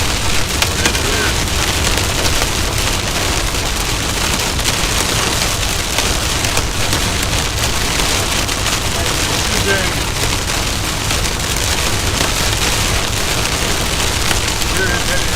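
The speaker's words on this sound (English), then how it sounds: "You're in heavy rain." Heavy rain and hail drum on a vehicle in the core of a severe thunderstorm, a dense, constant roar with scattered sharper impacts, loud and unbroken throughout.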